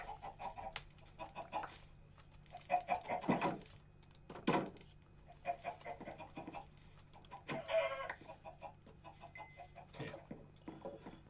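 Minecraft chickens cluck in short, scattered bursts at a moderate distance, with soft keyboard-like clicking between them and no voices.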